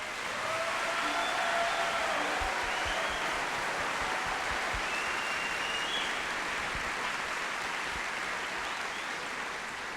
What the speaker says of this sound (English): Give another round of applause for your kids.